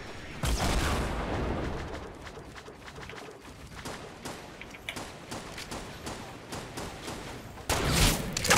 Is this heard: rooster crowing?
no